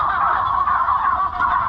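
A dense flock of about 8,500 turkeys inside a long farm turkey house, a continuous loud chorus of overlapping gobbles and chatter filling the space with no pauses.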